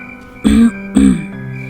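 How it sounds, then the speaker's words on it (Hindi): Two short, gruff throat-clearing bursts about half a second apart, close and fairly loud, with no speech. "उसने अपना गला साफ किया"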